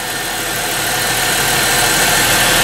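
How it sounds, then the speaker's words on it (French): A 2004 Chrysler Pacifica engine idles steadily after a spark plug change, a loud, even mechanical hum with a faint vibrating rattle that holds constant throughout, no voices present. "Ça tourne comme un moteur neuf."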